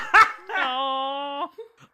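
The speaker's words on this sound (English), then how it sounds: "That's my dog, everybody." A dog gives a short yip followed by a drawn-out, high whining howl, close and fairly loud, then a few faint small sounds.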